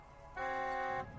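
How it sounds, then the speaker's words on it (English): A car horn in the video game Borderlands 2 gives a single short, clear honk of about half a second, sounding alone over quiet game ambience. "Just drive up and honk your horn."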